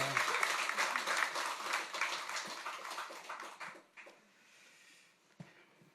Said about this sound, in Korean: 다시 한번 경례 박수하겠습니다.